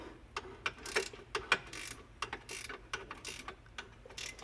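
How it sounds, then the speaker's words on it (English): A crank ratchet tightening a bolt gives quiet, irregular clicking: quick pawl ticks spaced across the stroke, close to the listener, with no voices over it. "look how many cranks it's taken me just to get this thing tight"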